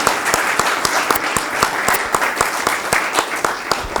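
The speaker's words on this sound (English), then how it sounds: "welcoming Mr. Al Jasiri with a huge applause" A Rotary club installation audience in Dubai applauds to welcome the district governor, with sharp individual claps standing out over a continuous wash of crowd clapping, close and loud.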